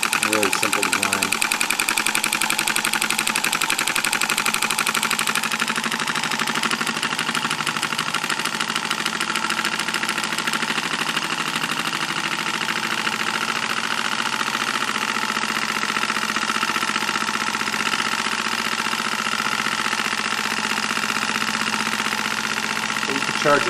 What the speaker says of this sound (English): This is an oscillating engine.